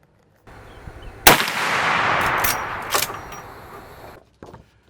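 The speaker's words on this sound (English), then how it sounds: "I'm going to reshoot the group with 5 shots of the 240 grain jacketed soft point spear bullets" A single shot from a Winchester 1892 lever-action rifle firing a 240 grain jacketed soft point bullet, a sharp loud crack followed by a long rolling outdoor echo that fades over a couple of seconds.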